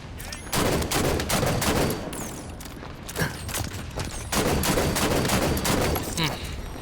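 Rapid bursts of gunfire from the video game Halo 5, sharp cracks coming in quick volleys with short gaps between them, loud and up front.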